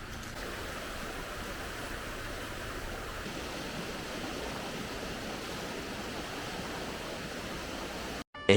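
A river flows with a constant broadband rush of water, steady and unbroken, before cutting out abruptly at the very end.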